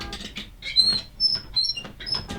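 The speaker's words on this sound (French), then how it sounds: "C'est un bruit de grincement quand on appuie sur la pédale" A Thrustmaster aluminium pedal squeaks as the accelerator is pressed, giving a series of short, high, close squeals and creaks at an irregular rhythm.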